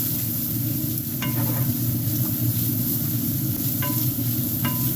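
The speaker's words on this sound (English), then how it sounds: "Sorry if it's loud with that air fryer going." A steady mechanical whir and hum from an air fryer runs throughout, with a few faint clinks and sizzling sounds over it.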